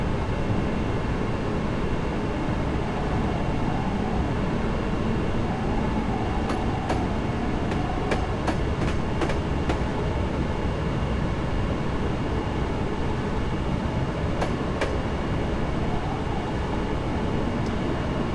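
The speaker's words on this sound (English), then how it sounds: "now because this is a dual motor train" Steady, continuous rumble of a dual motor electric train running on the Woodhead Line in a train simulator, with faint clicking ticks partway through and no speech.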